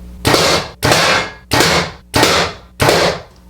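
An arrow tipped with a Swhacker 262 broadhead strikes a target with sharp, loud impacts: five evenly spaced cracks, each with a short decaying tail, and no talking.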